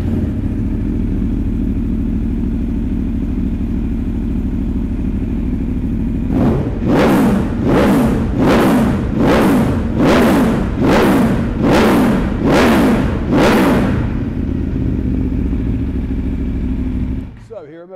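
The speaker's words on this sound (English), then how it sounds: "The V4 engine on this bike sounds absolutely superb." Aprilia Tuono V4 1100 Factory motorcycle with a carbon Akrapovic exhaust, its V4 engine idling loudly, then blipped through about eight sharp, evenly spaced revs before settling back to idle and cutting off.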